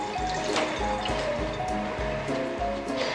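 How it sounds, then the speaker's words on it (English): Running kitchen tap water pours steadily over hands as they are rinsed after handling raw bacon, a continuous close rushing wash with soft dull knocks underneath. "I'm gonna rinse my hands again."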